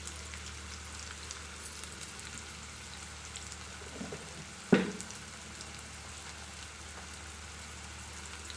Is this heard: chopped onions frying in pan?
yes